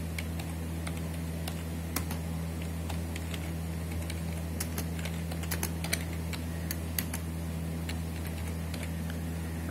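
Light typing on a computer keyboard, with irregular clicks and short bursts of keystrokes over a steady low hum from a nearby machine, with no talking.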